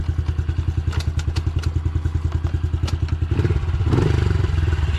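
A small, light fuel-injected pit bike engine runs steadily close by with a rapid, even pulsing thump, rising in revs and loudness toward the end.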